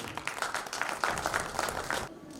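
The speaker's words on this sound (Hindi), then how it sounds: "जोरदार तालियां" Applause from an audience at an induction cultural programme as a poet is welcomed to the stage, a fairly faint, steady patter of many hands clapping for a couple of seconds.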